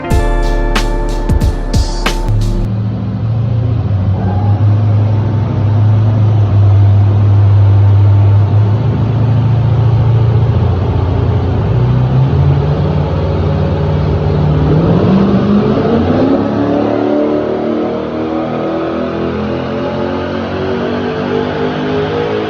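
A Holden VY SS with a tuned LS1 V8 and an LSA cam package makes a dyno pull. It idles briefly, then drones loudly with pitch climbing steadily as revs build over about twenty seconds.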